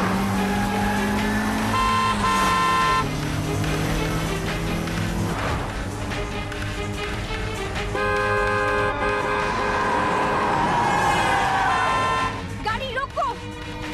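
A car drives through busy city traffic while horns honk repeatedly, short and long toots layered over engine rumble, loud and close, with shouting voices at times over the din.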